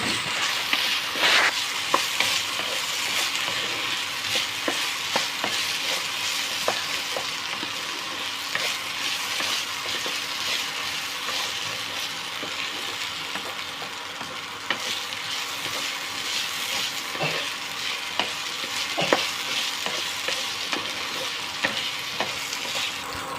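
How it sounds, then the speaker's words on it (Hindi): Ginger garlic paste fries in hot oil, a long steady sizzle peppered with frequent scraping strokes and clicks of a spoon stirring against the pan, close, moderate in level, without any speech. "ये अदरक लहसुन का पेस्ट डाला हमने हल्का सा, और इसको अच्छे से भून लेंगे"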